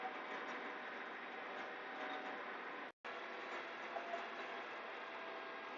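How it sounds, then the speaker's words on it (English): Rural King RK55 55 horsepower tractor engine running steadily while planting, a continuous even drone with a brief cutout near the middle and no talk. "RK tractor sounds like a toy"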